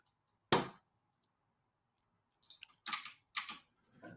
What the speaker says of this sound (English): I actually need my keyboard to type now.